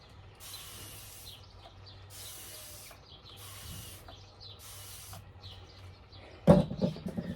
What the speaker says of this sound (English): I'm gonna spray this glider and clean it up